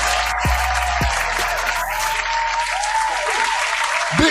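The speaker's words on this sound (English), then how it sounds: "Let me get my boy's applause." A loud, dense applause sound effect of a crowd clapping continuously throughout, with a few low thumps mixed in.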